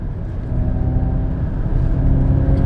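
A 2021 Ford Mustang Mach-E electric car accelerates hard with its rear end sliding out, giving a close, steady motor whir and road rumble that builds slightly in loudness.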